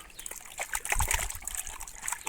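Water trickles and splashes softly from a drip irrigation line in a rural garden, a faint, close, irregular dribble with small splatters lasting a couple of seconds.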